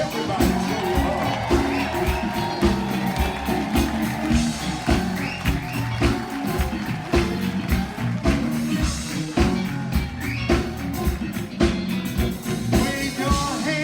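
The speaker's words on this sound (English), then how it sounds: "Let's give a big warm 2020 Soul Train cruise round of applause" An audience cheers and whoops for Gerald Alston of The Manhattans at the 2020 Soul Train cruise, a loud, dense crowd roar that holds steadily for the whole stretch, with voices mixed into the din.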